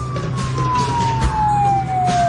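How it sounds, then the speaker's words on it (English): A police car siren sounds as an effect in a radio drama, one loud, close wailing tone sliding slowly downward over a rumbling engine. "Give him a touch of the siren."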